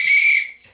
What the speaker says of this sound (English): I've got a whistle.